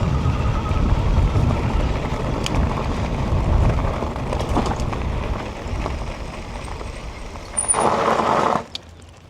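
An ENGWE L20 electric bike runs at full throttle on a bumpy gravel road, a continuous low rumble of tires and wind buffeting the microphone, with a louder gust near the end before it drops away.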